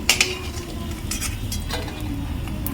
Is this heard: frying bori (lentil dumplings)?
yes